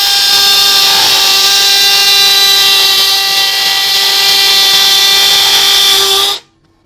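A cordless HL BCID 813 impact drill on a 4Ah battery, set to impact mode at speed 2, runs in one continuous loud high whine with steady tonal harmonics for about six seconds, then stops abruptly.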